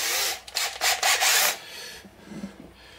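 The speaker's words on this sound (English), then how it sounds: "I'm going to try to get some of this oxidation off." A tool scrubs oxidation off a part of a vintage Ampeg Reverberocket amp in repeated rasping strokes, loud and close for about a second and a half, then fading into softer scraping with no talk.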